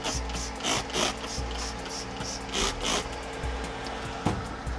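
Intermittent bursts of hissing spray from a Fooco LB05 Pro cordless pressure sprayer, several short pulses with brief pauses between, close by with some faint handling noise.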